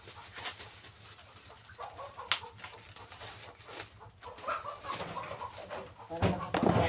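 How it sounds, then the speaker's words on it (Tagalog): Several chickens cluck and squawk nearby on a farm at corn harvest time, with irregular short calls scattered over faint background noise and a louder burst near the end. "Bakit may manok dyan?"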